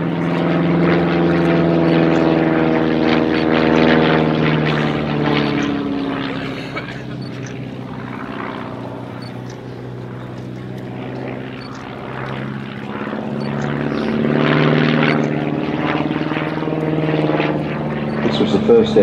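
A Bücker Jungmann biplane, a 1930s German training aircraft, flies an aerobatic display with its propeller engine droning steadily. The pitch rises and falls as it passes, loud throughout with no break.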